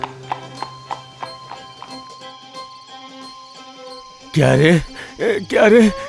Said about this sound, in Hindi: घोड़ा गाड़ी की सवारी कर आ रहे हैं